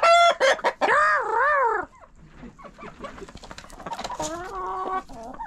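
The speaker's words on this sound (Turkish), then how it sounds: "Gıdaklıyorlar elimi." Chickens clucking and crowing loudly up close in a coop during feeding with a milk-and-wheat mash, with a few loud bursts followed by quieter clucks and people talking nearby.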